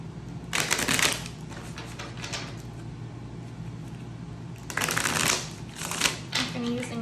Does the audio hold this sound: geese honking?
no